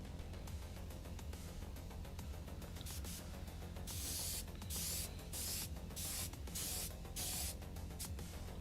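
An airbrush sprays a weathering coat onto the tracks of a model Bradley or Chieftain tank, giving a steady close hiss that swells in short bursts as the trigger is pressed and released.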